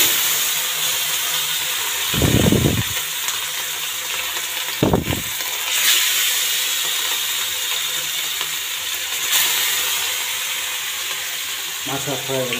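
Fish fries in hot oil with a loud, continuous close-up sizzle, broken by a couple of brief clattering knocks from handling in the pan.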